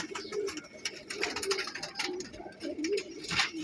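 Pigeons cooing softly nearby, low rolling coos repeating over a faint background hum.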